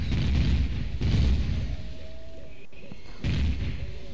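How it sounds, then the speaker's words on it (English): Gunfire in the game Empyrion Galactic Survival striking the player, heard as a few loud booming bursts about a second apart over a low rumbling backdrop. "I'm being shot."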